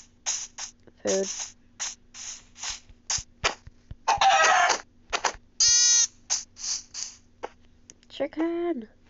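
Minecraft game audio with short bursts of clucking from a chicken mob, mixed with other chirpy effects and rapid clicky sounds in an uneven rhythm, close and fairly loud, no talking.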